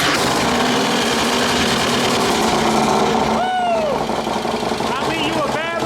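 An anniversary Harley-Davidson Road King motorcycle engine fires up for the first time and runs loud and steady nearby, with a mechanical clatter and brief whistle-like tones, while people talk and shout excitedly over it.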